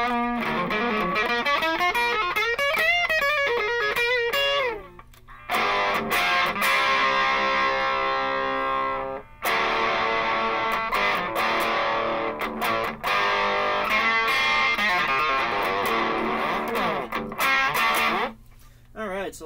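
A heavily distorted electric guitar plays loud sustained chords and bending notes through a cranked single-ended DIY tube amp with power amp distortion, with brief breaks between phrases.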